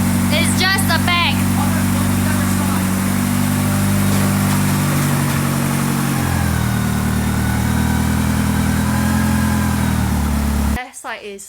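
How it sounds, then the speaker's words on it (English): A Mitsubishi 4G63 engine swapped into a Mini Cooper runs at a steady, loud idle close by, with a rough low drone and a brief voice at the start before the engine cuts off abruptly near the end. "First start of the 4G63 powered Mini"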